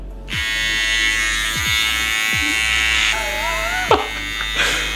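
A close electric razor buzzes steadily, its hum shifting as it moves over beard stubble, with brief thumps and a bit of voice partway through.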